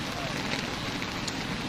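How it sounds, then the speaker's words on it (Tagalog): Heavy, steady rain pours down during a typhoon flash flood, a continuous dense hiss with no letup across the whole stretch. "tuloy-tuloy pa rin ang ulan"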